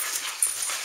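A Shetland sheepdog puppy gives a thin, high-pitched whimper, brief and close, over a hissy background.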